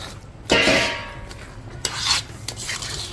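Sesame seeds and peanuts for laddus are stirred and tossed together in a metal vessel, giving gritty rattling sweeps of seeds against metal in three quick bursts, close and fairly loud, with no talking.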